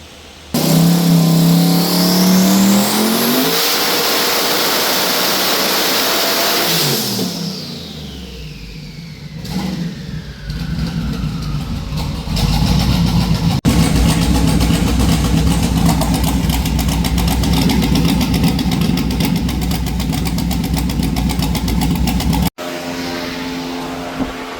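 A twin-turbo LS engine in a Trans Am runs on a dyno, revving up in long loud pulls, dropping back between runs and then holding a sustained high-rpm roar before cutting off near the end.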